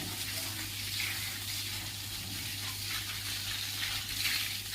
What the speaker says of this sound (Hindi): उसके बाद ये मैंने अपना यहाँ पर बाइक भी धोई